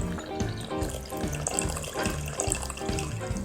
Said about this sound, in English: Prepare a pan and turn heat on to high and add about 1 liter of water